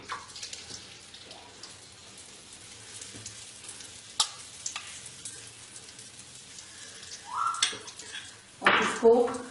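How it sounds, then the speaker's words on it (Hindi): Whole spices frying in hot oil in a pan for nargisi kofta gravy, a soft steady sizzle with occasional clinks and louder scraping bursts near the end; faint background talk. "जितनी देर ये मसाला इधर भुन रहा है"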